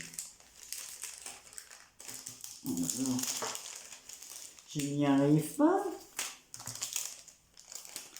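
Paper crinkles and rustles in short bursts while someone speaks over it, the handling noise close and moderately loud.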